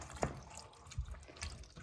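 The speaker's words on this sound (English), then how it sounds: "That was good plop." A veg stock cube drops into about 300 ml of boiling water in a kitchen pot, making a single soft low plop near the start, followed by faint stirring and scraping under a quiet background.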